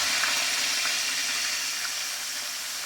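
Pork frying in a pan gives a steady, dense sizzle that stays even and fairly loud throughout, with faint crackles and no talking.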